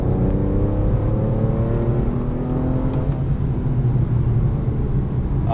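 A Porsche 911 997 Carrera 3.6 engine hums steadily from inside the cabin, a low throaty drone with rising harmonics as it pulls and accelerates in sixth gear, continuous and fairly loud.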